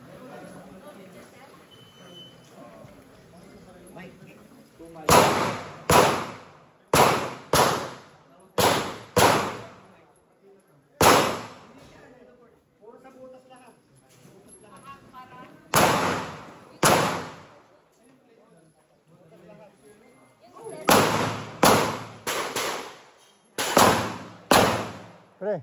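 Firecrackers exploding in quick clusters of sharp, loud bangs, several in a row, then pauses filled with people talking before the next burst.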